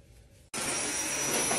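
A household vacuum cleaner switches on abruptly after a quiet moment and roars loudly and steadily up close.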